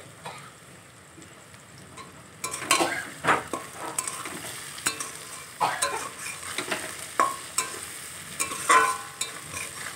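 Onion and potato frying in a pan with salt added, a constant sizzle under repeated clanking stirs of a utensil, close and fairly loud, no talking.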